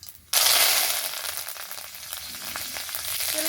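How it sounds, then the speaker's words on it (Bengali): Whole cumin seeds and a few washed curry leaves hit hot oil with a sudden loud sizzle that stays steady and bright, crackling and spitting throughout without talk. "এবারে তেলের মধ্যে নিয়ে নেব সামান্য একটু গোটা জিরে, আর নেব কয়েকটা ক্যারি পাতা।"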